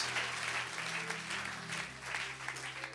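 A church congregation claps and cheers in continuous, dense applause that stays fairly steady throughout, with a low hum underneath.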